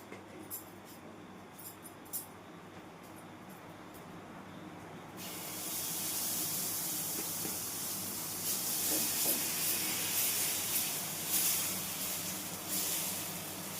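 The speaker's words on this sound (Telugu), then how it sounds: "ఇప్పుడైతే ఓట్స్ దోశ పోస్తున్నాను" Oats dosa batter sizzling and hissing on a hot pan, a steady spray-like frying hiss that swells louder partway through and carries on, close and continuous with no talking.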